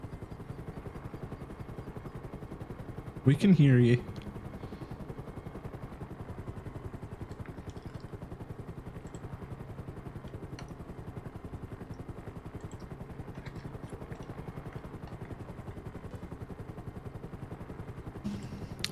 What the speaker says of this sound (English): I think I'll stay in the helicopter